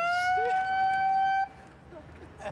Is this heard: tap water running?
no